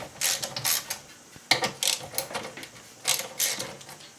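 Bolts on a 5 HP Briggs engine crankcase being loosened with a ratchet wrench, giving short bursts of clicking and creaking in three separate spells with brief pauses between, close up and alone.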